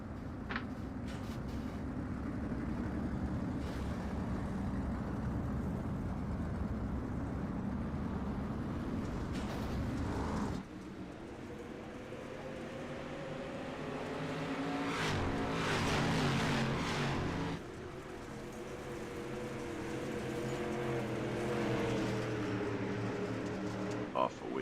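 Dirt street stock race cars in the iRacing sim roar as a pack, a dense engine drone that shifts pitch as they accelerate, with revving swells midway. A commentator talks over it.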